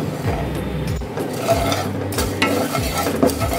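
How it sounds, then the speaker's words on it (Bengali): Coriander seeds and dried red chillies dry roasting in a pan, a close dry rustle and scrape of stirring with soft crackling, steady throughout. "এই ধনে আর শুকনো লঙ্কা আমাদের রোস্ট করা হয়ে গেছে"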